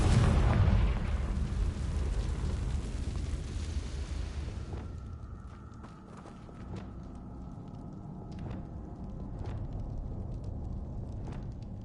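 A fiery Confringo spell explosion in a Harry Potter-style video game hits as a loud, deep blast that rumbles and fades over a few seconds into quieter crackling ambience, with no talking.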